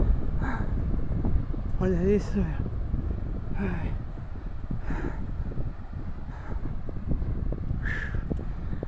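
Wind blowing across a sandy dune trail, a steady gusty rumble buffeting the microphone throughout, with someone talking briefly over it.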